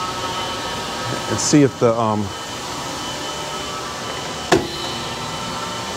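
A chip blaster coolant system runs on a gun drill machine, giving a steady broadband whir and hiss that fills the whole stretch. A voice speaks briefly over it, and a sharp click sounds near the end.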